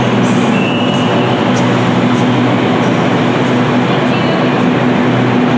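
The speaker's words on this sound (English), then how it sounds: "There we go, we're catching the train" A loud, continuous roar of an underground train arriving at a City Circle station, with a steady mechanical hum and faint high squeals above it.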